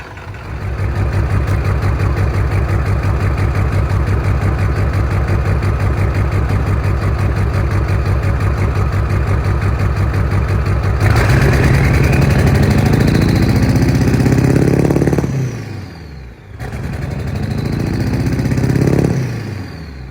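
A Ford OBS 7.3 Powerstroke diesel idles steadily with a rough, rhythmic clatter while warming up, loud and close, then rises briefly in pitch, drops away and picks up again near the end.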